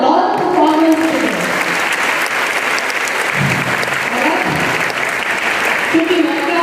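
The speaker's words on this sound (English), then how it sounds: "A huge round of applause for all the performers today." A large audience at a school Independence Day celebration applauds the performers with loud, continuous, dense clapping and crowd noise that holds steady throughout, with voices mixed in.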